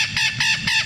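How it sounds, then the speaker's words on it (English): Recorded Puerto Rican Amazon parrot call, three loud harsh honking squawks in steady rhythm, close and alone. "So yeah, so that's what one of the parrots sounds like."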